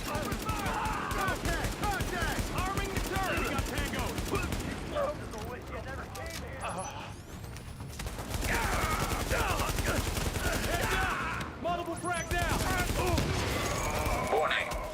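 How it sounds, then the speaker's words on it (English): Bursts of automatic gunfire from a firefight in The Division 2 video game, dense rapid volleys that break briefly midway and then resume, with voices talking over parts of the shooting. "Why are you shooting?"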